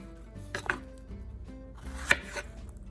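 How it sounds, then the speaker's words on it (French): A kitchen knife cuts peeled apples into quarters on a cutting board for a tarte tatin. Two crisp chopping knocks land about a second and a half apart over a quiet background. "Alors je coupe en quartiers, pas trop gros ni trop fin"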